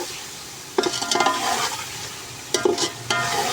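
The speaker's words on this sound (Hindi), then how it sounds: "बस आलू जो है अच्छे तरीके से भुन चुके हैं।" Potato chunks fry in oil for aloo pulao, a steady loud sizzle broken by two bursts of stirring and scraping in the pan, close up, with no voices.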